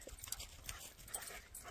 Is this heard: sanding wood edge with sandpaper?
no